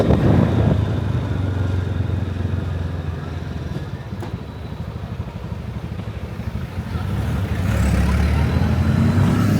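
A motorcycle engine runs nearby at a roadside parking spot on Isla de Oro, Cagayan de Oro, a loud continuous rumble that dips slightly in the middle, with passing traffic noise around it.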